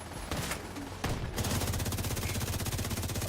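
Rapid turret fire in a Ubisoft shooter: a few scattered shots, then a dense, loud rattling stream of evenly spaced rounds that keeps going to the end.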